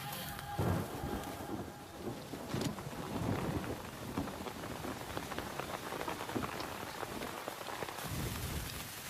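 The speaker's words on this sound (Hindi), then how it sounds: "यहाँ पर बारिश हो रही है" Steady rain pattering on a surface, with occasional heavier splashes and a low rumble underneath, continuous throughout.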